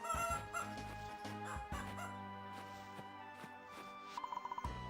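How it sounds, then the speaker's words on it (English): Chickens on a farm in the Fields of Mistria life-sim game, clucking in short repeated bursts over a soft background melody, with a quick run of pecking-like taps near the end. "There's the chickens."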